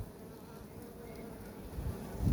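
Honey bees hum in a dense, steady drone close by as a frame of bees is placed during a hive inspection, with a low rumble rising near the end.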